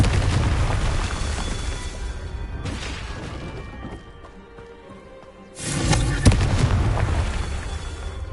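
Confringo fire-blast spells going off in the video game Hogwarts Legacy, with loud booming explosive bursts over a dense roar and a brief lull before another heavy blast.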